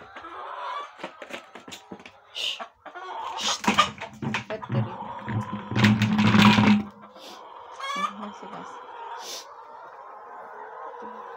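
Chickens cluck in a coop, a rooster-like crow rising among repeated bursts of clucking, fairly close, with people talking faintly over part of it.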